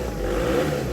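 The engine of a £250 salvage car bought at auction idles at a steady, rough, low drone, fairly loud and close, with nothing else over it.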